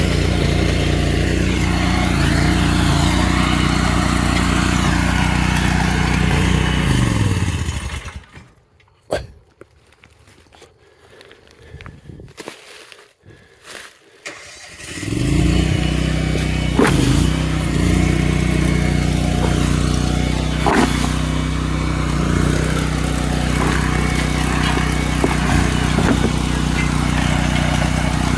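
A trencher digging a trench, set on a built-up ramp, its loud, steady engine drone running close up, cutting out for several seconds midway, then roaring back and continuing to the end.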